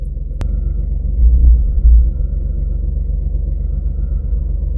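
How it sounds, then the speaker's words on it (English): Steady low rumble of a moving Jeep XJ with a deep groaning drone from a wheel that swells briefly, plus one sharp tick near the start. "There's a groaning noise coming from a wheel."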